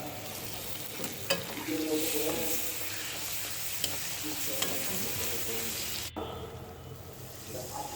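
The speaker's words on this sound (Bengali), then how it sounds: "পেঁয়াজ বাটা দিয়ে কিছুক্ষণ নাড়াচাড়া করে একটু পানি দিয়ে দিলাম।" Onion, ginger, cumin and garlic pastes sizzle and fry in a pan for chicken biryani, with a continuous close hiss, scraping stirs, and a sharp click partway through.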